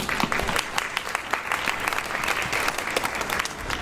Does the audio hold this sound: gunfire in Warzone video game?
no